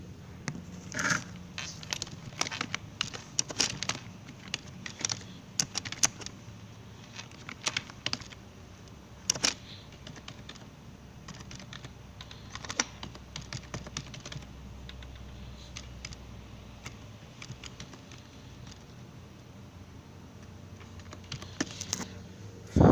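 Steady, close typing on a computer keyboard while an online e-stamp paper application form is filled in: rapid, irregular key clicks with occasional louder taps, continuing without pause.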